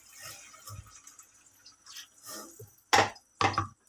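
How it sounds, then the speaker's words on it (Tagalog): A glass of water poured into a cooking pot of sautéed yellowfin tuna, with two short splashing pours after a few faint drips and trickles. "nagdagdag ako ng isang baso ulit"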